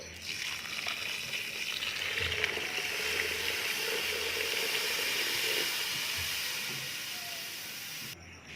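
A litre of water is poured into a haleem pot holding lentils, rice and roasted broken wheat, making a loud, steady rushing hiss that runs for about eight seconds with no talking.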